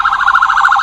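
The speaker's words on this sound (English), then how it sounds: "Sorry, there's an ambulance" An ambulance siren wailing loud and close, a rapid warbling tone sweeping up and down in quick even cycles without pause.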